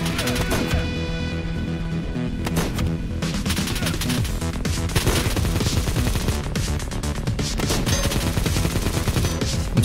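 Dense, continuous gunfire from a shotgun-heavy firefight in the video game Project Delta, loud blasts overlapping with rapid automatic fire and game music throughout, no voices.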